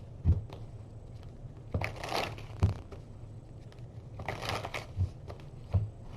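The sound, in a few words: shuffling tarot cards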